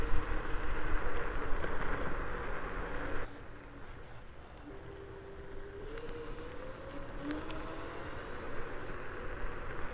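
A Fluid Freeride Mantis Pro electric scooter climbs a hill with a steady whining motor and rushing road and wind noise, the pitch rising slowly as it keeps pulling upward.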